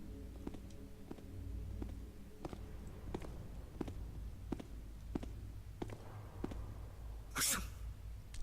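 A character in the video game Thief III sneezes once, a short sharp burst near the end, after a run of soft, regular footsteps over a low ambient hum.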